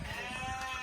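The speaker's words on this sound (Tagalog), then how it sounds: "Oh, may mga tupa rin sila doon guys." A sheep bleats on a goat farm, a short, wavering cry heard at a moderate distance over steady outdoor background noise.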